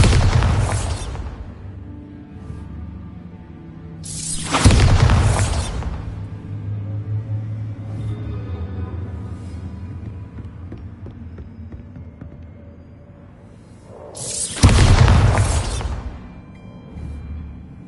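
Bombarda explosion spell in the video game Hogwarts Legacy: three loud booming blasts, each a sharp broadband burst fading into a low rumbling hum between them.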